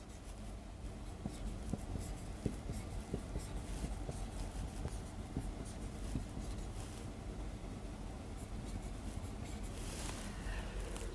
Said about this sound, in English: writing of hydrogen everywhere.